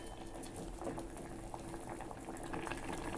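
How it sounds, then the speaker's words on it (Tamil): Pumpkin and mushroom soup at a steady boil in a pot, a constant bubbling and gurgling that stays moderately quiet and unbroken throughout, with no voices over it. "நல்லா கொதித்து வரட்டும்"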